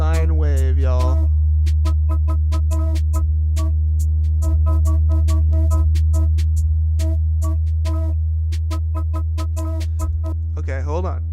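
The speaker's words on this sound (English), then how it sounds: "sine wave, y'all." A POM-400 modular synthesizer holds a steady, loud, low sine-wave tone throughout, while a sparse clicking beat ticks over it; someone talks briefly at the start and again near the end.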